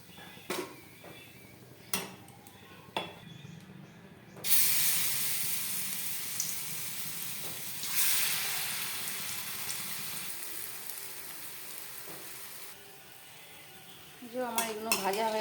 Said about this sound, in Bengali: এইভাবে সবগুলোকে ভেজে নেব আমি